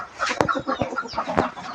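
A young rooster gives short, rough crowing calls in a farmyard, close and fairly quiet, broken into a few uneven bursts within under two seconds.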